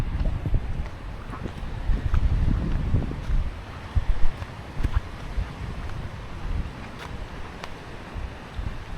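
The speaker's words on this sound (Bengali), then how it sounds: "এতটা পরিমাণ ঝড় হচ্ছে" Strong storm wind roars across a riverbank in the Sundarbans where small fishing boats are moored, a heavy, buffeting rumble that surges in gusts and buffets the microphone, with occasional sharper knocks and splashes and no speech.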